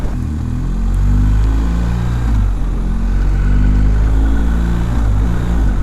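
A BMW 1250 motorcycle engine drones loud and close, its pitch climbing and dropping in steps as the rider shifts through the gears, with steady rumble and no talk.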